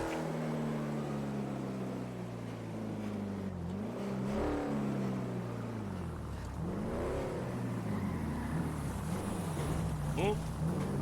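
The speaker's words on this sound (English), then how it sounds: "Hearing lots of cars, like many cars." Several cars drive past in a GTA V NoPixel roleplay street scene, their engines rising and falling as they pass one after another, a steady layered traffic drone with a speaker talking in the background.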